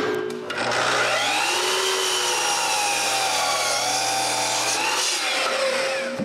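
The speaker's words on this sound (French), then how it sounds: "Après avoir percé le trou, je coupe mon guide à 52 degrés." A saw cuts a wooden drilling guide at a 52-degree angle, a sustained loud grinding whine with wavering pitch that starts abruptly and stops near the end.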